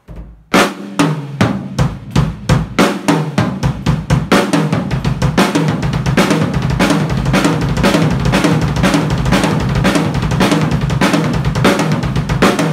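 Drum fill moving across snare, first tom and third tom, then three bass drum kicks, repeated in a fast steady pattern that builds into dense continuous drumming, loud and close throughout, no voices.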